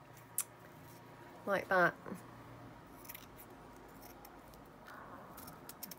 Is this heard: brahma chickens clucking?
no